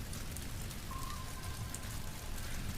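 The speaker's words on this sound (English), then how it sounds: "Let the rain and thunder fade and drift into the world of brass veins." Steady rain falls in a constant, even hiss of drops with no thunder and no voices.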